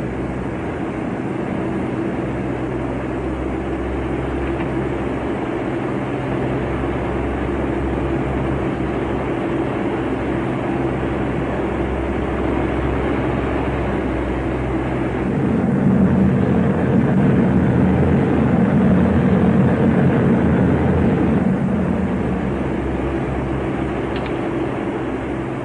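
Several aircraft engines of a 1941-era bomber squadron drone steadily in flight, a continuous low rumble that swells louder in the second half.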